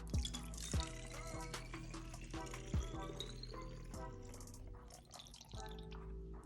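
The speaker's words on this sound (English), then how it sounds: "now I'm gonna pour it into my spray bottle" Liquid trickles and drips into a small spray bottle, with soft splashing and gurgling, close and fairly quiet.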